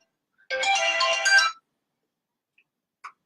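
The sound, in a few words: phone ringing with an incoming call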